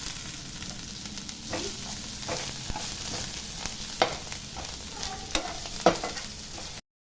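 Coconut, tamarind and coriander roast in a pan for chutney, a soft steady sizzle with scattered scraping and tapping from a stirring spoon, ending abruptly.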